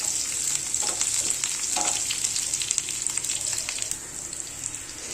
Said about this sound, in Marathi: कांदा चांगला ब्राऊन कलर येईपर्यंत भाजून घ्यायचं आहे